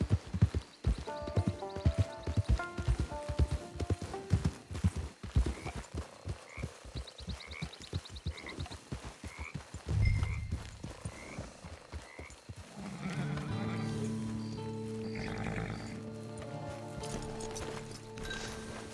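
Horse hooves clip-clop in steady rhythm in Red Dead Online, close and distinct, with ambient chirps and game music swelling in later.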